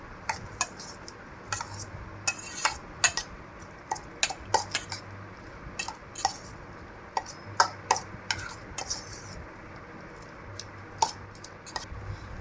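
A spoon stirs sandwich masala into mayonnaise in a bowl, producing irregular, close clinks and scrapes against the bowl's sides that come in quick clusters over a soft background hum.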